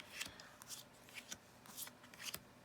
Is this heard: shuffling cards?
yes